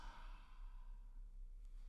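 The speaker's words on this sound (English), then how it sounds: "Open mouth, audible exhale, side out." A single audible open-mouth exhale during a yoga breathing exercise, a soft, breathy sigh that trails off gently and is heard alone and close.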